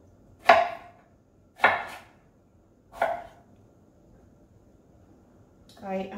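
A knife chops through pineapple flesh on a board in three separate, well-spaced sharp thuds, close and clear in a quiet room, with a softer rustle at the end.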